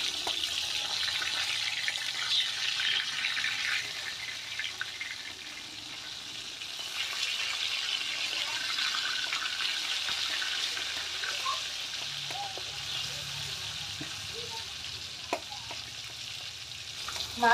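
A piece of catla fish fries in a pan with a continuous soft sizzling hiss, steady for a long stretch, with occasional faint pops and clicks.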